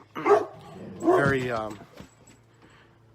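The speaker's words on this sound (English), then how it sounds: "that's my dog" A pet dog barks twice in short yapping bursts close by, with a person talking over and between the barks.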